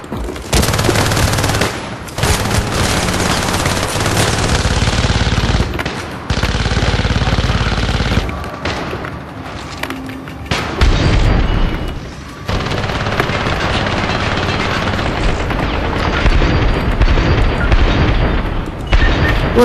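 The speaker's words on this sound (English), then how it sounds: "Shooting everywhere but where the person is." Loud, continuous gunfire and booming blasts fill a frantic firefight in the video game Syndicate, with dense bursts and brief pauses that repeat over and over, no voices heard.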